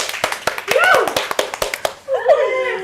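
A small group of people claps in sharp, uneven bursts of individual hand claps, close and fairly loud, while voices speak and laugh over them.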